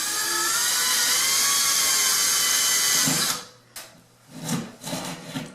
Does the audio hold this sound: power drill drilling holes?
yes